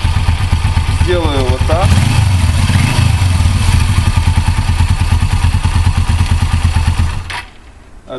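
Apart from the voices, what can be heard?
Suzuki GS500E motorcycle engine being stopped and restarted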